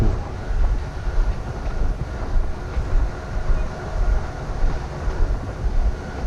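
A passenger train bound for Zakopane from Kraków rumbles steadily along the rails, a continuous low, close roar with faint rhythmic clatter and no voices.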